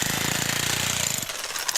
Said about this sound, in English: A jackhammer is necessary to break the old concrete up.